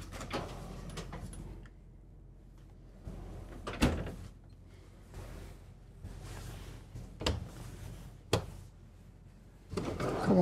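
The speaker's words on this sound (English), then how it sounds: "Soft closing drawers." Soft-closing kitchen drawers in a 2023 Newmar Supreme Aire 4061 motorhome slide shut several times, each a muffled thud or glide separated by quiet pauses, with faint handling noise.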